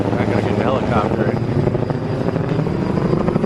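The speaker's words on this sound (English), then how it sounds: "I gotta get the helicopter" A helicopter flies over a street in Angeles City, Philippines, its rotor chop and engine roar steady and fairly loud, with people talking underneath.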